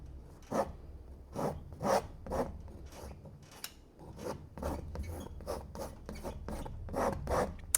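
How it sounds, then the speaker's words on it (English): A palette knife scrapes excess oil paint off a canvas of a fall sunset mountain landscape in steady, rhythmic rasping strokes, close and fairly loud, with no voices. "Let's scrape off a little more."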